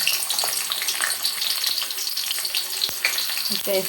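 Chopped onions frying in oil in a large pot, a continuous bright sizzle with watery crackling and a few sharp clanks of a utensil near the end.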